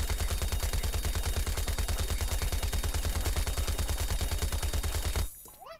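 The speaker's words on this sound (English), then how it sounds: "I'm gonna be showcasing this brand new ability that I got today, Bling Gatling. Wanna hear how it shoots?" The Bling Gatling ability in Plants vs Zombies Garden Warfare 2 fires a relentless, evenly spaced stream of rapid shots, loud and steady, before cutting off abruptly near the end.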